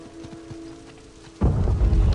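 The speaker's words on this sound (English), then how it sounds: "Thunder?" Thunderstorm in the video game Uncharted: The Lost Legacy: a low rumble gives way to a sudden burst of heavy rain and deep thunder that keeps going loudly.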